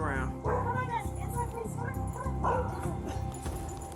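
A dog yelps and barks in short, rising bursts during a police raid on a house, sounding close and loud, mixed with people talking.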